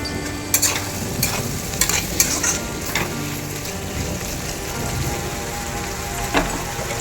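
Pork frying in a pan with ginger garlic paste, salt and turmeric is stirred, giving a continuous close sizzle with scattered scraping clicks from the spoon and no talking.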